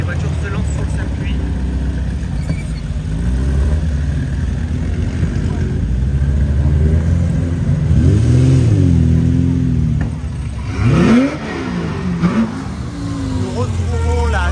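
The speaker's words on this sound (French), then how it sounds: "Les voitures se lancent sur le circuit." Classic Jaguar racing cars, including an XK150S, Mark II, C-Type and E-Type, pull onto a circuit during the Tour Auto, engines droning and revving with a rising pass near the end, under continuous French commentary.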